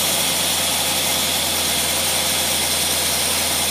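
Engine fitted with a Carter AFB carburetor idling smoothly, a steady low rumble with an even pulsing throb, close and constant with no talk.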